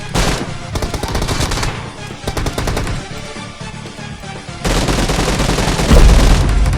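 Rapid gunfire bursts from PUBG Mobile, loud and dense, with repeated automatic volleys and heavier blasts near the end and no talk.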